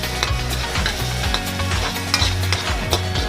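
Ground pork sautéing in a pan for pork giniling, a steady sizzle and frying crackle with repeated scraping stir strokes of a utensil against the pan, close and fairly loud, no talking.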